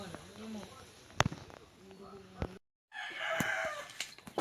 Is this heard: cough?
no